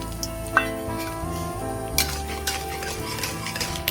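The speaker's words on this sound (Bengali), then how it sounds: "চিনে বাদামগুলো ভেজে নেবো" Peanuts fry in mustard oil in a pan, giving a steady low sizzle under occasional sharp clinks and scrapes of a spatula against the metal, close up.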